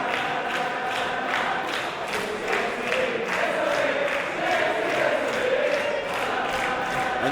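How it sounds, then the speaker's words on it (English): A wrestling crowd at a women's singles match chants in unison at a steady, rhythmic pulse, filling the arena with a broad, roaring wash of voices heard from a distance. "And you hear the crowd singing, she's the Ace of Eve."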